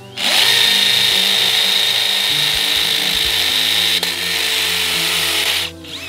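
A Keyang DM18BL-W cordless drill bores into a concrete block set with stones, giving a loud, continuous high-pitched whine that holds steady and then winds down at the end.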